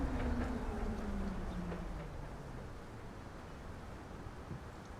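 A train rolls past in Transport Fever 2, a rumbling rail passage with a falling tone that fades slowly from loud to quieter over several seconds, with no talk.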